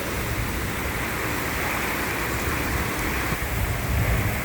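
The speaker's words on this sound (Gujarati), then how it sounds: "વરસાદ હવે થોડોક પાછો વધ્યો, પવન પણ વધ્યો છે" Heavy unseasonal rain pours steadily in a village during a thunderstorm, with gusting wind adding a broad, dense roar that swells slightly toward the end, close and continuous with no voices.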